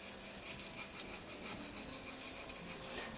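Steel plane iron rubbed back and forth on an oiled natural sharpening stone, a steady close rasping scrape with rhythmic strokes running continuously and alone.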